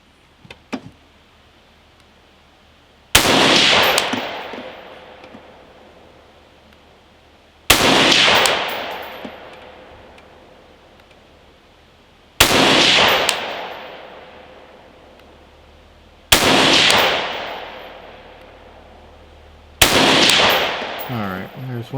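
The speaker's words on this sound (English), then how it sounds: "Alright, there's one 5-shot group" Five rifle shots from a 5.56 rifle fitted with a VG6 Gamma muzzle device, firing 62-grain Fiocchi ammunition, each a sharp loud crack with a ringing decay, spaced about four seconds apart outdoors.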